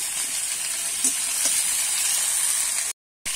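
Sliced ridge gourd frying lightly in oil in a pan, a steady close sizzle and hiss, with a couple of soft stirring touches before it cuts out briefly near the end.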